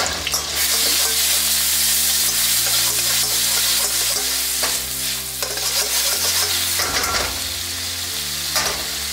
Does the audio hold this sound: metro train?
no